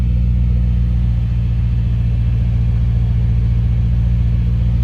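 A Mercedes CL550 V8 idles after being started, a loud, close, steady low rumble with an even pulsing throb that continues unbroken, with no talking over it.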